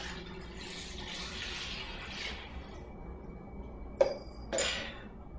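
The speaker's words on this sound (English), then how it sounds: "The next thing is to top it with water or some type of stock." Chicken stock pours over black beans in a crockpot, a steady soft splashing and gurgling stream, faint and close, that tapers off and ends with a couple of light clinks.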